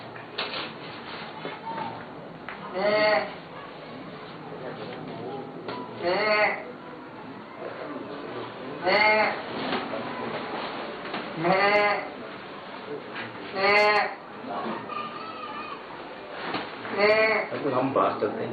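A person imitates goat bleating in repeated wavering bleats spaced a few seconds apart, close and loud, with talking between them.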